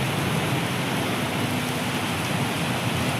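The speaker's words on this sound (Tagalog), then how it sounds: "patuloy pa rin yung pag-ulan" Steady rain falls by the Marikina River during the southwest monsoon, a dense, even hiss with no talk over it.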